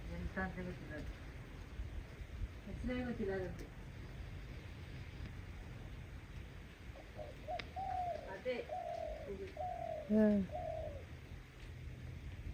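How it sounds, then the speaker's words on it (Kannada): A pigeon or dove coos outdoors near a home, several soft rounded calls in short runs, mid-distance, with a person talking at times alongside a constant low background hum. "ಕೂ ಕೂ ಕೂ ಅಂತ ಹೇಳಿದ ಕೇಳ್ತಾ ಉಂಟು"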